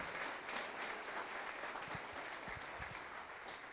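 Church congregation applauding God during a Spanish-language sermon, soft, even clapping that runs steadily throughout, heard from a distance with a few low thumps.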